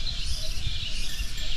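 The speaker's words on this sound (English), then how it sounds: "Listen to the birds." Faint, steady high chirping of birds in the distance at Lake Toba, Samosir, Indonesia, over a low outdoor rumble, with no voices.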